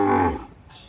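A cow at a cattle farm with sacrificial Qurbani cattle lets out one short, loud, close moo that quickly fades, leaving faint farm ambience.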